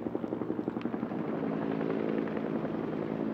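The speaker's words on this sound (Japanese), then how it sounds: "上空左手から侵入してきたのは陸上自衛隊のヘリコプターです" A Japan Ground Self-Defense Force helicopter's rotor thumps rhythmically overhead during a flood-defense drill by the Tone River, the beating blades giving way to a steady, loud engine drone.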